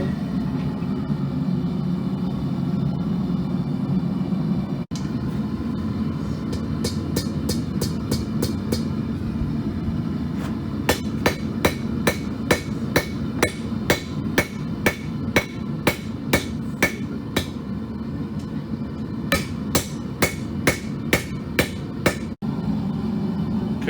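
A blacksmith hammers hot metal on an anvil, closing and flattening the piece with sharp ringing strikes in rapid bursts, separated by short pauses, over a low steady forge rumble.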